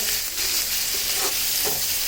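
Chopped onions fry in hot oil for a dried fish curry, making a close, steady sizzle with soft stirring scrapes.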